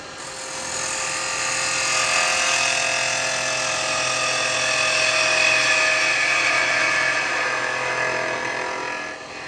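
A carbide chisel shears steadily across the front of a wooden goblet spinning on a lathe, giving a loud, continuous whining cut that holds for several seconds before easing off at the end, with no voices.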